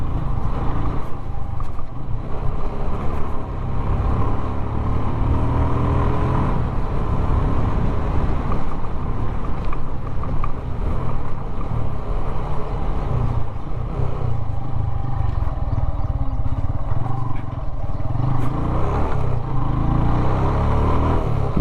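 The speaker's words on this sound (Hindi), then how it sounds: "चलो तो आप बाइक की साउंड एंजॉय करो" A motorcycle engine drones steadily and loudly throughout, with a low throaty rumble and slight shifts in pitch as the bike rides along.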